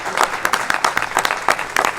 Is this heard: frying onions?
no